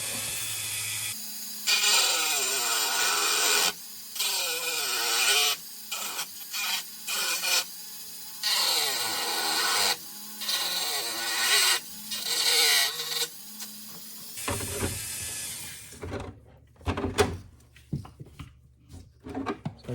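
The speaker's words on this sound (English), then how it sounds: "I'm going to start, as I mentioned, with those slots using my Dremel little cutoff disc wheel." A small Dremel rotary tool with a thin cutoff disc wheel cuts slots in metal, giving a loud, rasping grind in repeated bursts of a few seconds each, separated by short pauses, with lighter scraping toward the end.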